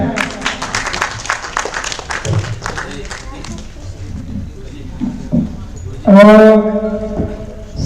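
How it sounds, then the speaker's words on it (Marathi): Loud clapping fills a hall at a poetry award ceremony of a Marathi literary conference, brisk at first then thinning, with a voice over it and a sudden sustained tone near the end. "जोरदार टाळ्या"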